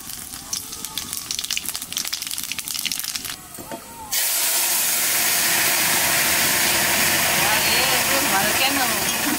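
Dry red chilies and five-spice seeds hit hot oil and burst into a loud, steady sizzle that fills the second half and stays close and continuous, after a stretch of quieter stirring.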